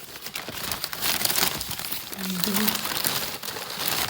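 A paper shopping bag handled close by, with dense crinkling and rustling that rises and falls in bursts, alongside a faint brief voice in the middle.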